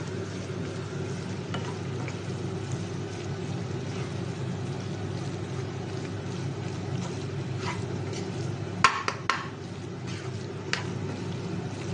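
Pumpkin curry with jaggery and tamarind is stirred in a pot, a soft continuous bubbling simmer with occasional clinks and scrapes of the spoon against the pot near the end, and no speech.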